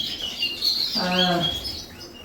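Native finches in breeding cages in a bird room give a short, faint chirping call, a single brief burst of bright tweets over quiet room tone.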